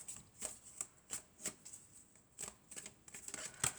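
Tarot cards being shuffled during a general and love reading, a soft, quiet run of papery riffles and flicks in short irregular bursts, with no voices.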